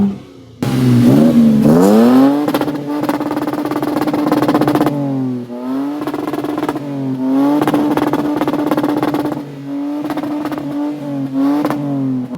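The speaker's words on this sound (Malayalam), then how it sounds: "ഞാൻ ജസ്റ്റ് എക്സോസ്റ്റ് നോട്ട് നിങ്ങൾക്കൊന്ന് കേൾപ്പിച്ചു തരാം" A Toyota Tacoma with a 3.5-litre V6 revs repeatedly, its exhaust note rising and falling in loud close bursts after a push-button start, with no talk over it.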